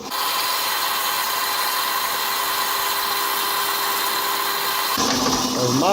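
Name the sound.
drilling a knife blank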